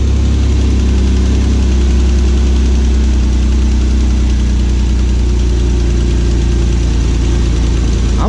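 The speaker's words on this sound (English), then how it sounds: "You can hear a tapping there, but it starts to get quieter." LS-swapped Chevy Nova V8 idling with a faint lifter tapping, a loud, steady low rumble with a fine rapid ticking under it, close and continuous throughout.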